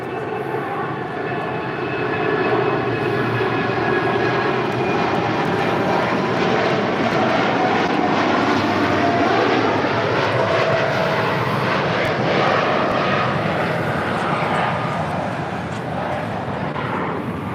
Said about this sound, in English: That is Atlas Air Giants 8711 taking off to Anchorage on a 747-8 freighter.